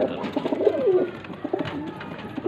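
Breeder pigeons in Faisalabad coo softly in a loft, with several close, low warbling calls overlapping amid light background noise.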